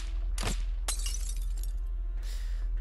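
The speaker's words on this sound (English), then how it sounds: "Did she shatter the streetlight?" A streetlight's glass shatters in the Arknights video game: two sharp bursts of breaking glass a fraction of a second apart, then a scattering of tinkling shards over a low constant hum, with no voices.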